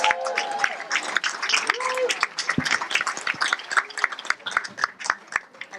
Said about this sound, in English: Can we give Nicola a round of applause